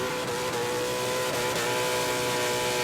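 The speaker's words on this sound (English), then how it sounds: "still hear some wild donutting going on in the top paddock" A car spins donuts in the top paddock at the Goodwood Festival of Speed 2024, its engine revving and tires squealing in a steady, distant roar with no talking.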